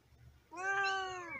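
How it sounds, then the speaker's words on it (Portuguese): An angry cat meows in one loud, drawn-out, strained yowl after a brief quiet stretch, close by and alone, trapped somewhere as an unexpected stowaway. "Olha só o gato, velho, aí, ó. Tá miando, tá brabo o bicho."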